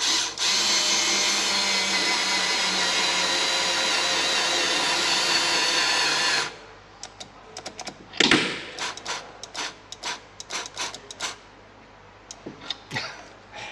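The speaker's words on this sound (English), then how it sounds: "the drill's not powerful enough to do it" A drill strains against a bolt in a coffee shop fit-out, a steady loud whine for about six seconds that cuts out, followed by short sputtering bursts and clicks as it stalls and restarts.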